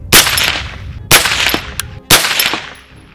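Three loud, sharp rifle shots from a gas-operated DMR, evenly spaced about a second apart, each cracking hard and ringing out briefly outdoors, with no talking.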